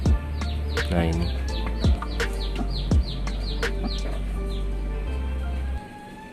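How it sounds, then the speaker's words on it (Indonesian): A sick Pelung rooster gives short, hoarse crowing calls and clucks close by, mixed with a person talking and other chirping birds. "Mudah-mudahan kokoknya bisa pulih kayak semula lagi, bisa agak panjang."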